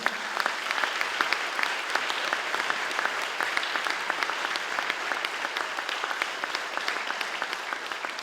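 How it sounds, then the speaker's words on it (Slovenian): Steady, even applause from a concert audience for the orchestra at a charity concert for a Hrastnik retirement home, a dense wash of many hands clapping continuously at a moderate distance for over eight seconds. "en aplavz še za njih, prosim"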